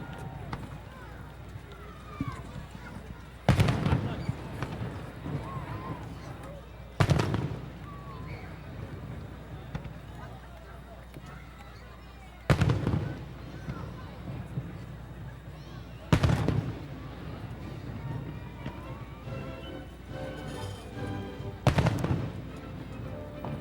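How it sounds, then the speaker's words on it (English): Fireworks go off in six loud booming blasts spaced several seconds apart at a July 4th, 1993 celebration, over a constant rumble of crowd noise and distant talk. "The salute begins, the fireworks, and then we will see a comet crisscross."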